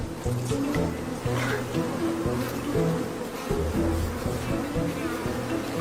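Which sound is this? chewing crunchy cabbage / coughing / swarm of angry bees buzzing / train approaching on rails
swarm of angry bees buzzing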